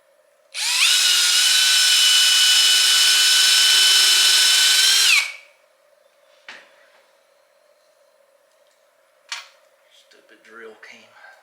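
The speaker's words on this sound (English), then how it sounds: "I gotta pre-drill the holes" A power drill pre-drills holes in wood and PVC during window framing, running in one loud, sustained whine for about four seconds before spinning down. Faint knocks and handling clatter follow.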